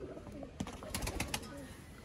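Teddy pigeons, a prized breeding pair at a Lahore fancier's loft, give low, soft coos over a steady background hiss, with a few sharper flutters or taps in the middle.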